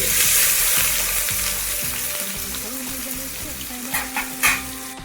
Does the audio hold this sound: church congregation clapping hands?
no